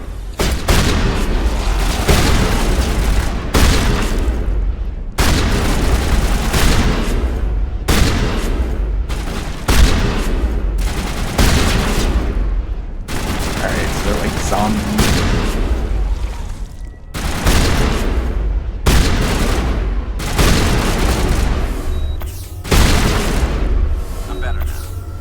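Shotgun fire in the Mass Effect video game, loud repeated booming blasts in quick irregular bursts over about twenty-five seconds, layered with other game combat noise and some voice.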